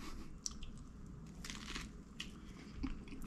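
A turkey sandwich filled with crunchy cereal is bitten and chewed close up, giving soft, moist crunching and squishing with no talking.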